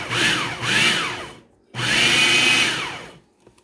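A food processor pulses a mushroom meatball mixture in two loud, close whirring bursts separated by a short silent pause, each motor run rising and then winding down.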